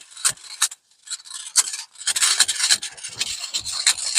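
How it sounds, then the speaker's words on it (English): A rake scrapes and rasps across garden soil in repeated short strokes, raking in winter rye seed, close and loud, with a brief pause before a busier run of scratching. "I'm just going to rake some of this in"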